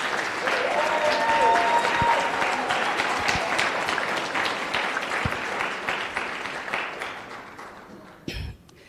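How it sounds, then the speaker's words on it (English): A warm round of applause at a competition law, economics and policy conference, dense clapping at full strength that slowly thins and fades over about nine seconds. "Tembi also deserves a very warm round of applause for a successful conference."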